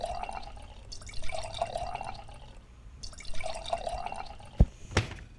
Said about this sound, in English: And some milk.